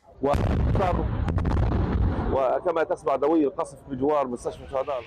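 A loud, rumbling explosion from an attack in the Israel–Hamas war booms for a couple of seconds, and then a voice talks over the fading noise.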